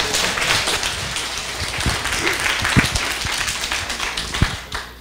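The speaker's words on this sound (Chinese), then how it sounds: "请掌声欢迎" Audience at a lecture hall giving applause to welcome a lecturer, dense sustained clapping from many hands with a few sharper individual claps, fading slightly at the end.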